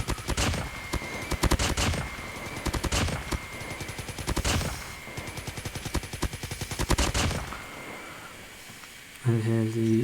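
Rapid bursts of RUS-79U submachine gun hip fire in Call of Duty Mobile, several sharp rattling strings of shots separated by short pauses, ending with a brief electronic tone sequence; no speech over the gunfire.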